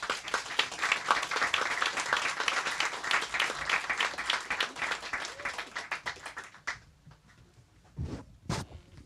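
An audience in a packed evening hall breaks into sustained applause as panelists take the stage, dense clapping for about six seconds before tapering off into a couple of scattered final bursts.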